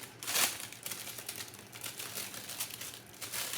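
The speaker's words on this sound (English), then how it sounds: "that bag took a little while to get open" A clear plastic seasoning bag tied with a red tie is worked open by hand, giving a sharp crinkle at first and then a steady stretch of soft, close plastic rustling and crackling.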